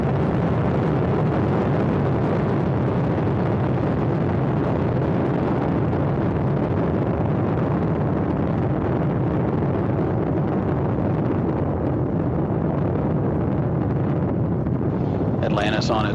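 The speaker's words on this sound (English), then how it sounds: "all three engines now throttling down" A continuous, heavy broadband roar of Space Shuttle Atlantis's rocket engines at the STS-125 launch rumbles steadily throughout, dense and loud, with a brief crackle near the end.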